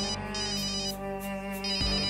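A phone ringtone plays a steady, bright repeating melody for a couple of seconds, with no voices over it.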